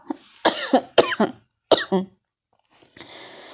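Several sharp, raspy coughs in quick succession, close and loud, then a brief pause and a softer breathy throat sound.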